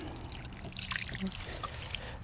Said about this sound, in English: you can control how much pressure or how much water comes out with this right here